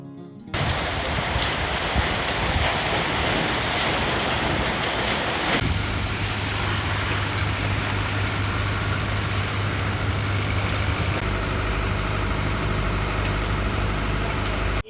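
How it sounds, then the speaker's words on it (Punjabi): Steady heavy rain pours continuously in Amritsar, a dense hiss of drops with a low rumbling hum underneath, loud and close throughout. "ਅੱਜ ਬਰਸਾਤ ਹੋਈ ਹੈ"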